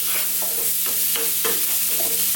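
Carrots stirred into a pot of cooking vegan five-bean chili stew, a continuous close sizzle broken by several rhythmic scraping strokes of a spoon.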